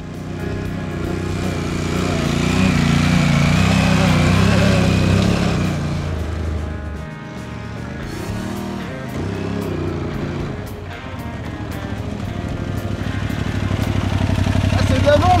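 A motorcycle engine rumbles close by throughout in Merzouga, Morocco, rising and falling in pitch as it revs and settles, with voices heard faintly beneath it.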